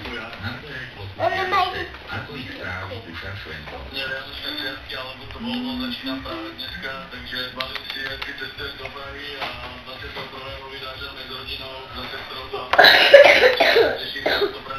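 A sick person coughing indoors, with a few coughs heard amid a conversation and a louder burst of coughing near the end.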